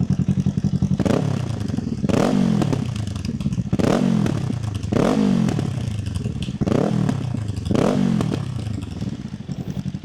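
A Kawasaki Ninja 500 with an Akrapovic aftermarket exhaust, baffle in, revs repeatedly in strong, rhythmic bursts, each rising and falling, with a throaty muffled exhaust tone close by.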